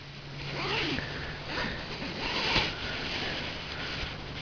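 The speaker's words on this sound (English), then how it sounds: "What I'm doing now is zipping the bug netting." Zipper drawn along hammock bug netting outdoors, a few soft, close rasping pulls in short bursts over a steady hiss of background noise.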